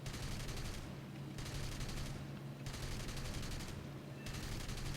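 Sustained aircraft machine-gun fire in the War Thunder flight game, long rattling bursts separated by short pauses, loud and close over a steady engine drone.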